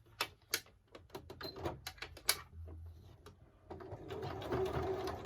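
A sewing machine stitches a fabric wallet strap, with close rapid rhythmic bursts of stitching, a pause, then a softer continuous run with handling noise, and no talk.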